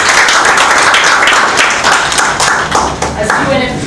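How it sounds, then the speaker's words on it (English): A crowd claps in sustained applause, dense and loud throughout, with some voices mixed in. "Another round of applause."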